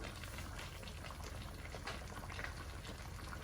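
Chicken tagine with prunes and dried apricots simmering over low heat, a steady close bubbling and sizzling hiss that stays even throughout with no talking.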